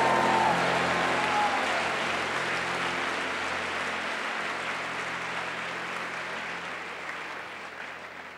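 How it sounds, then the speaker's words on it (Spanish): A church congregation gives a loud, sustained round of applause, a dense wash of clapping that holds steady and slowly fades over several seconds, with no voices standing out. "dale un aplauso al Señor fuerte y glorifica su nombre"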